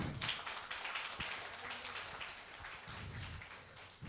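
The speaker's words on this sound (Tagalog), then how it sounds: "At pumalakpak sa Panginoon." Church congregation clapping together in praise during a Sunday service, a dense wash of hand claps heard from across the room, steady and moderately loud before tapering slightly.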